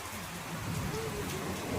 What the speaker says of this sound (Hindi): ये है हमारे गर्मियों की पहली बारिश